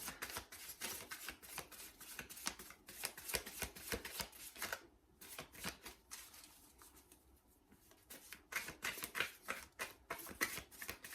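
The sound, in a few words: shuffling tarot cards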